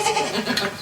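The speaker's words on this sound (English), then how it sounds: "The goats are kept at one end of the cave." Goats kept at one end of a cave stable bleat in a brief, close, reverberant burst lasting under a second.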